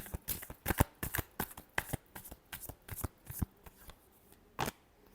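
Tarot cards shuffled by hand in quick riffling bursts, a run of crisp papery flutters with brief gaps between them. Close and fairly quiet, with no talking.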